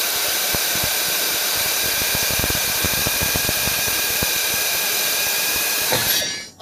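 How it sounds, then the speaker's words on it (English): An air ratchet on a long extension runs loud and continuous against a suspension bolt, a harsh pneumatic roar laced with rapid clattering impacts, then cuts off abruptly at the end. "I'm going to put an air ratchet on it, and we're going to zap this sucker off"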